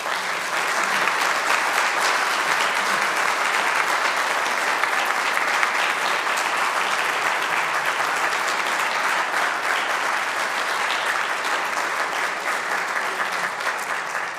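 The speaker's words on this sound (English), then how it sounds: "I'll accept that applause on behalf of the cold that I endured." Sustained audience applause from an indoor gathering, a steady dense wash of clapping that holds at an even level for about fifteen seconds with no voices rising above it.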